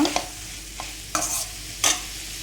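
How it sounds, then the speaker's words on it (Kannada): Diced capsicum with turmeric powder fries in a pan under a low, steady sizzle, broken by four distinct scraping strokes as a spatula stirs the vegetables. "ಇವಾಗ ಇದೆರಡು ಸ್ವಲ್ಪ ಫ್ರೈ ಆಗಬೇಕು ಅಲ್ಲಿ ತನಕ ಈಗ ತಿರುಗ್ತಾ ಇರಬೇಕು"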